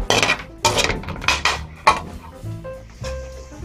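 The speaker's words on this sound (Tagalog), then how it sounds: "Ngayon po ay ibalik na po natin ang ating hipon dito sa kawali." Shrimp are returned to a frying pan with a series of sharp metallic clanks and scrapes of a utensil against the pan, several distinct hits over a few seconds, close and loud.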